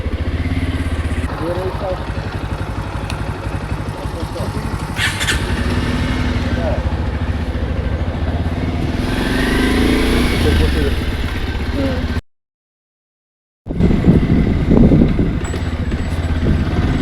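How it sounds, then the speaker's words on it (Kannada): A motorcycle engine runs steadily and loudly close by, rising as the bike pulls away, with a brief silent break near the end before the engine noise returns; people talk over it. "ಮತ್ತೆ ಬೈಕ್ ಎತ್ತಾ ಇದ್ದಾರೆ"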